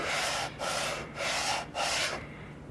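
A wooden piece is sanded by hand with 150 grit sandpaper on a flat work table. Four close, rhythmic rasping back-and-forth strokes are separated by short pauses and end in quiet.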